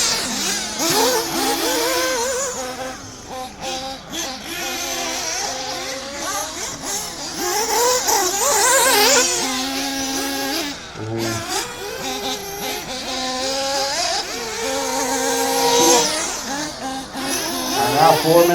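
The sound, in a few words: race car engine running lean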